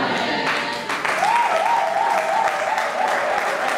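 An audience applauds at an event, with sustained, dense clapping throughout and a faint tonal voice-like warble running beneath it.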